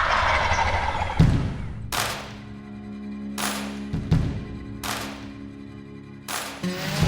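A wild turkey gobbler sends out several loud, rattling gobbles in separate bursts spaced a second or two apart, clear and close, with no talking over them.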